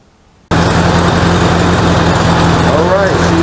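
A 1985 Honda Goldwing GL1200 motorcycle runs after a carburetor swap, its engine catching abruptly and then idling steady, loud and close, with a low even drone for several seconds.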